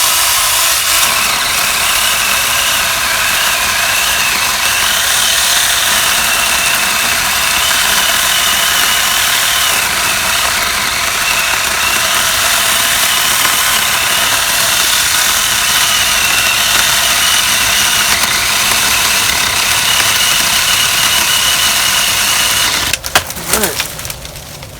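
An IDOO mini chainsaw pruner cuts through a 4-inch hardwood apple branch outdoors, a loud, steady whining buzz running nearly unbroken for over twenty seconds before the motor cuts off near the end.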